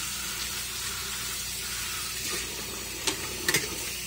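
Tap water runs steadily into a sink while rinsing a dirty pan, a continuous close hiss with a few short clatters of the pan near the end.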